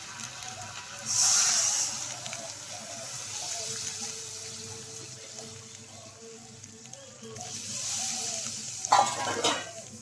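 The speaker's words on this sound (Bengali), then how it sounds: "এবার আমি জল দিয়ে দেবো" Water hits a hot frying pan of vegetables with a sharp hissing burst, then a quieter sizzle continues, ending with louder bubbling and clatter.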